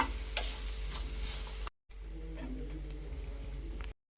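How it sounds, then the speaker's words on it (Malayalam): Dry grated coconut sizzles softly as it roasts in a hot pan while a spoon scrapes and stirs steadily, with brief pauses in between. "ഈ തേങ്ങ നമുക്ക് വറുത്തെടുക്കണം"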